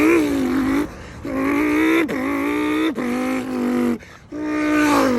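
A voice imitates a Lamborghini Huracan launch control with his mouth, loud, close buzzing engine tones rising in pitch through several revving pulls, each cut by a brief gear-shift dip.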